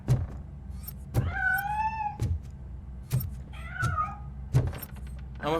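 A cat meows in the video game RoboCop: Rogue City, two clear drawn-out meows standing out against a low game rumble, with several sharp clicks or thuds spaced between them.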